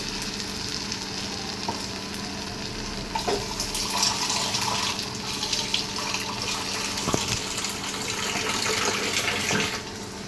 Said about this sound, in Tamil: இப்போ நமக்கு தேவையான அளவுக்கு நம்ம தண்ணி ஆட் பண்ணியாச்சு